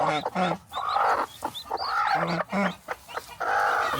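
Chickens on a farm cluck loudly and close in repeated bursts, with a rooster-like call rising among them and faint voices nearby.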